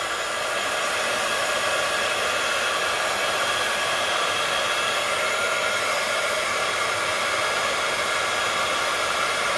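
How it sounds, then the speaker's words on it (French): A heat gun blows steadily and loudly without a break while a stamped design is embossed onto a candle. "j'ai le heat gun qui fait du bruit."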